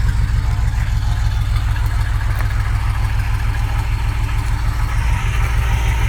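A 1994 Astro van engine with a new muffler idles steadily with a low, even rumble, fairly quiet and continuous throughout, with no voices.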